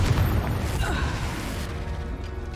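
A Confringo blasting spell explodes in the Hogwarts Legacy video game, a loud booming burst with rumbling low end that decays over a couple of seconds.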